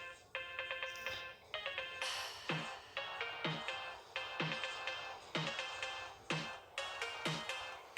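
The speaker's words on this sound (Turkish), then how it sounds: "Telefon çalıyor." A telephone ringtone rings alone in steady repeated bursts of bright electronic tones, loud and close, cycling for the whole stretch with brief gaps between phrases.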